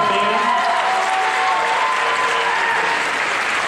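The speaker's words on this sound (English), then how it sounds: "One more big round of applause for our band members" Applause for a university pep band at a Saint Martin's women's basketball game, a dense steady clapping from the crowd in the gym, loud and sustained.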